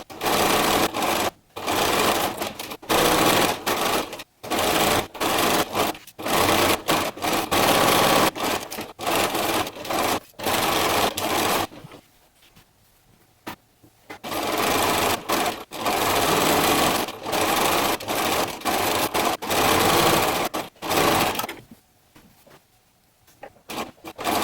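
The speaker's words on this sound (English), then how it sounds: "I'm going to go along each one and just sew right along the top to attach these feathers to the top of each layer" A sewing machine stitches feathers onto the top edge of flamingo costume layers, running in loud, close bursts of rapid mechanical whirring with short pauses between them and a longer break midway.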